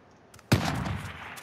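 A single loud sniper rifle shot from a video game cracks sharply after a quiet moment, then rolls into a long echoing tail.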